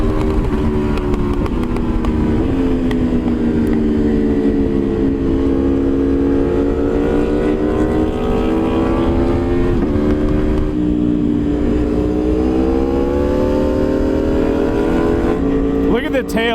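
A 2023 Aprilia Tuono V4 Factory motorcycle roars continuously while riding, its engine note rising and falling through revs and gear changes, loud with strong wind rush, and a rider's voice comes through over it.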